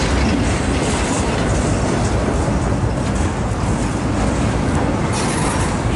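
A freight train with well cars rolls past close by on the NS Southern Tier in a snowstorm, a loud, continuous rumble with rhythmic clickety-clack of wheels over rail joints.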